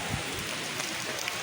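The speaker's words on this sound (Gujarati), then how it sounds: "એક બાજુ વરસાદ શરૂ છે" Rain falls steadily at the Hanuman temple, a dense broadband patter that hisses evenly through a short stretch with no voices.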